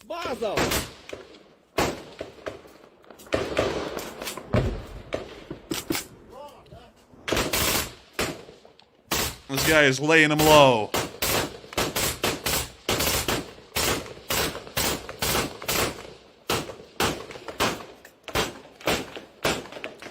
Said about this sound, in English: The return fire has died down.